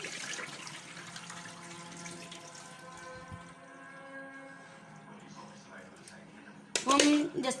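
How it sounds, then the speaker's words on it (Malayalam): Water sloshes and is tipped out while raw meat is washed in a bowl, with a steady low wash of sound under a faint voice and a louder splash of fresh water near the end. "ഇപ്പോൾ വെള്ളം ജസ്റ്റ് മാറ്റുക."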